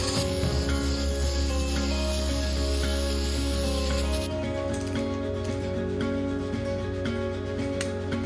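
A steady aerosol spray hisses continuously for several seconds as it coats door hinge pins, with faint rattling and handling noises close by and no talking.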